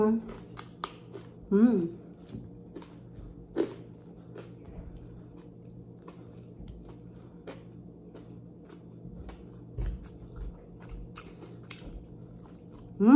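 Crispy pork belly, eaten in a Filipino mukbang, bitten and chewed up close: a few sharp crunchy bites spaced apart, with quieter wet chewing and soft mouth sounds in between.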